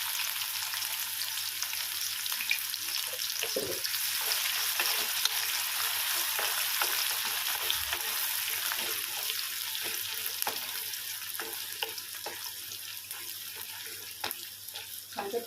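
Onion frying in oil with mustard seeds, cumin and a bay leaf for dal khichdi, a continuous moderate sizzle with scattered clicks and stirring scrapes, plus a brief stretch of running water.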